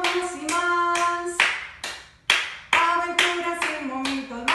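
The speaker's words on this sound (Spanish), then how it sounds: "todos juntos aplaudiendo y cantando más y más" Preschool children clap their hands in a steady rhythm while singing along to an upbeat tune in a bilingual preschool movement class. The claps are loud and sharp, with the singing and melody running continuously underneath.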